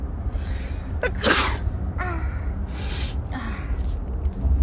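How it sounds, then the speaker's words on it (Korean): A young woman sneezes indoors during a casual live stream: a sharp intake of breath followed by a loud, close sneeze, then a second quieter burst, with no speech. "어, 재채기 나올래."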